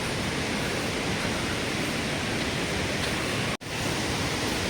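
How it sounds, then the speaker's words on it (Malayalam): A large waterfall in Wayanad, Kerala, heard from a distance as a dense, unbroken roar of rushing water, steady and loud with one brief dropout near the end. "എൻ്റെ ഓർമ്മ ശരിയാണെങ্കിൽ ഇതൊരു വലിയൊരു വെള്ളച്ചാട്ടം തന്നെയാണ്"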